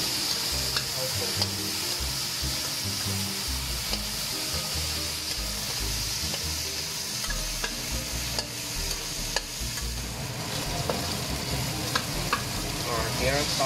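Ingredients for homemade taro cake are stir-fried in a pan, with a continuous sizzle and repeated scraping stir strokes throughout, close and clear with no talking.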